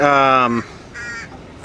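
Wild crows call outside a vintage television repair bench: one loud, harsh, drawn-out caw, then a shorter, fainter second call after a brief pause.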